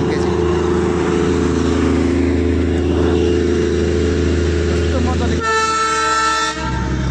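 A toy train horn blares close by in the last seconds over a steady low engine rumble and background chatter, at the Batasia Loop in Darjeeling.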